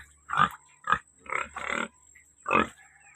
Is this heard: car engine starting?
no